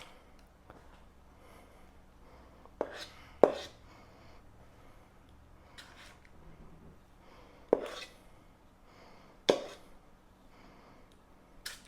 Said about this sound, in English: So I'll just scoop it up like so and then put it in there.